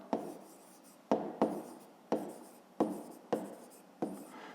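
Ballpoint pen writing on paper during a fifth-grade math exercise: about seven short scratchy strokes, each starting sharply and trailing off, close and fairly quiet, with no talk.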